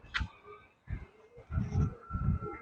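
Pigeons in a pigeon house coo in soft, low, rhythmic pulses, repeated three or four times, close by and fairly quiet.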